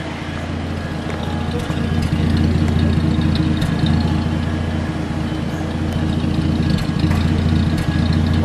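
A steady low engine idle from a 1935 Studebaker Dictator rumbles close by, even and continuous, with a faint rhythmic ticking running through it.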